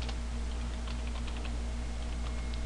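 Typing on a computer keyboard, a quick irregular patter of light key clicks over a steady low background hum, with no talking.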